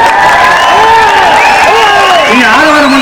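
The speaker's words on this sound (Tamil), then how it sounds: "நீங்க ஆரவாரம் பண்றீங்க உங்க சார்பா" Crowd at a political rally in Karur roars and cheers during a minister's speech; loud overlapping shouts and whoops rise and fall above constant crowd noise.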